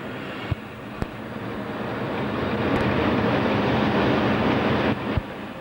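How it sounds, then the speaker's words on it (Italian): An FS diretto passenger train, ES 646, braking for the station stop at San Giovanni al Natisone on the 1990s Udine–Trieste line, heard as a steady rumbling roar that swells and holds, with a few sharp clanks from the running gear. "Ora il treno frena per la fermata a San Giovanni Natisone"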